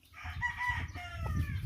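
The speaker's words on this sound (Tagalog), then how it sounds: "Yung ating mga alagang manok." Several chickens cluck and squawk close by in a short burst of overlapping calls.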